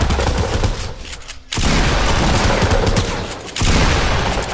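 Loud, continuous bursts of rapid gunfire from a video game, a sustained volley that drops out briefly before resuming at full intensity, with no talking.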